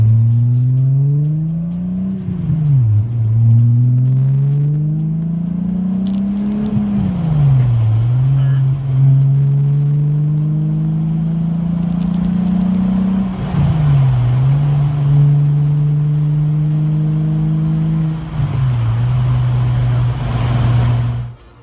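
A VR6-engined car drives and revs hard: a loud, close engine note climbs repeatedly, then drops sharply at each gear change, about four pulls in a row.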